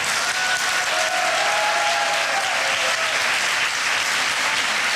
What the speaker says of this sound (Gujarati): થોડી વધારે તાળી થઈ જાય.